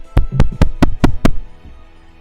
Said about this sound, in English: You keep hearing the tapping on the door.